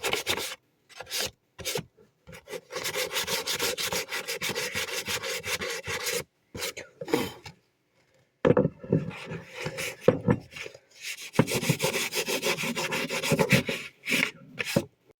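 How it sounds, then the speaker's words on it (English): A deer antler is worked by hand with 220 grit sandpaper, rasping strokes coming in bursts of steady rubbing broken by short pauses, close and fairly loud. "This 220 grit, oh my gosh, grit sandpaper is working fairly good for this."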